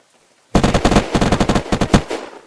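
A loud, close burst of rapid automatic gunfire rattles for about two seconds during a base raid in a video game, with no talking.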